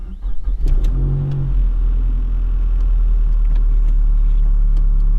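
A Mazdaspeed 3 fitted with a big turbo running about 25 psi accelerates hard, its engine roaring loud and close with a deep, steady rumble that builds and holds throughout.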